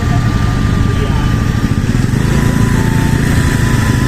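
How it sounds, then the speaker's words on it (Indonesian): A motorcycle engine runs steadily close by as it rolls into a crowded parking area, a continuous buzzing drone with no clear change in pace. "Ini masuk motor diarahin."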